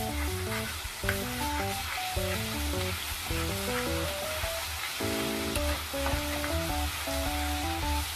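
Garlic paste sizzles with chopped onions frying in a pan, a steady crackling fry heard close up under continuous background music, with no talking.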